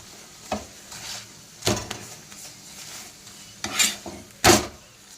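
Paratha frying on low heat in a pan, with soft sizzling beneath intermittent scraping and stirring clatters of a utensil against the pan, several distinct louder scrapes spaced irregularly.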